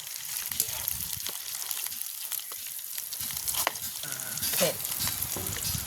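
Food fries in hot oil in a pan in a village kitchen, a constant dense crackle and sizzle close by, with some stirring clatter and a brief spoken word over it.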